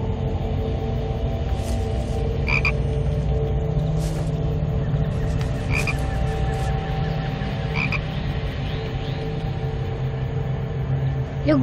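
Frogs croak repeatedly in a steady outdoor chorus over a continuous low rumble, with short croaks recurring every few seconds throughout.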